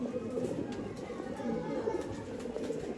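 Pigeons kept at a Bangalore sale coo in a low, continuous murmur that fills the short stretch, heard close with faint background noise and a voice in the mix.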